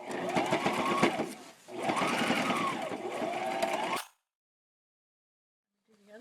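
A sewing machine stitches bias tape onto a reproduction 1920s-40s farmhouse bib apron, running in two steady bursts with a short pause between, then stopping into silence.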